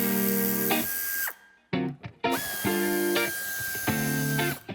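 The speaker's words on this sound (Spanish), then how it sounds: "quitaremos este tornillo que se nos ha quedado ya a la vista y este otro, Torx de 25 y Torx de 30" Power tool driving out Torx 25 and Torx 30 screws on a SEAT Leon III ST bumper, whirring in three loud close bursts with rising pitch, separated by a short pause with a few brief clicks.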